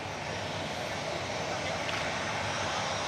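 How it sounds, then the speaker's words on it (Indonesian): A presidential airplane lands at Minangkabau International Airport in Padang Pariaman, West Sumatra, its engines a steady, broad roar that holds loud and unbroken throughout. "Pesawat kepresidenan mendarat di Bandara Internasional Minangkabau, Kabupaten Padang Pariaman, Sumatera Barat"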